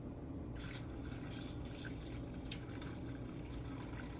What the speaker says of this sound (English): I'm going to pour more.